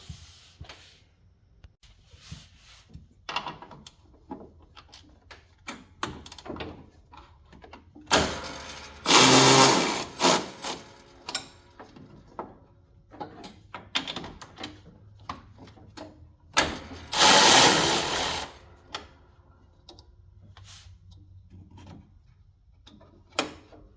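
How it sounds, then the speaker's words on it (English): Wrench work loosening 15 mm bolts on a John Deere D105 riding mower, heard as intermittent metallic clicks and ratcheting taps with two longer louder rasping bursts, close up and with no talk. "Sometimes you can get away with just loosening them and getting them past these little keepers here."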